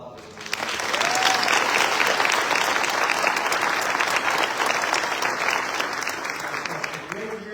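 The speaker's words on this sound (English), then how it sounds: "So how about a round of applause?" An audience at a Fort Cavazos family scholarship award ceremony breaks into a round of applause, a dense burst of clapping that swells quickly and then holds steady.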